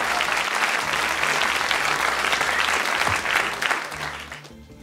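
A studio audience claps in a dense, loud, sustained burst of applause that carries on evenly before tapering off at the end.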